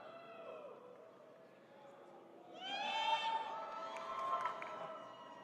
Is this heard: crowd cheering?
yes